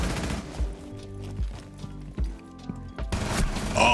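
Rapid automatic gunfire from the video game Rainbow Six Siege rattles in dense bursts, with heavy low thumps recurring throughout.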